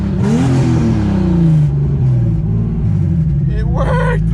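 A turbocharged BMW M52 engine in an E30 fires up and is revved hard, a loud, close rumbling roar that swells and falls, with excited voices over the engine noise.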